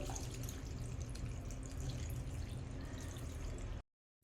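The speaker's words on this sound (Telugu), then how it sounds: "పాస్తాను స్ట్రైనర్లో వేసేసుకోవాలి" Cooked pasta and its water are tipped into a strainer, a steady rushing, splashing pour of water that runs loud and even for nearly four seconds, then cuts off abruptly into silence.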